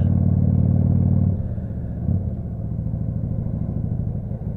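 A Kuba Superlight 200 chopper-style motorcycle engine runs loud and close, a heavy low rumble that drops to a steadier idle after a second or so, with a slight bump midway.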